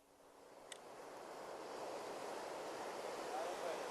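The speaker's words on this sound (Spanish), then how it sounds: "Escuchad el sonido de este océano, esas olas." Ocean waves wash in a steady, broad surf roar that slowly swells louder, with a faint wind hiss and one brief tick early on; no one speaks.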